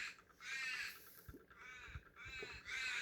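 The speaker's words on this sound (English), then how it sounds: "Crows in the background talking to each other." Crows caw in Australia, several harsh calls trading back and forth, faint and distant in an otherwise quiet outdoor setting.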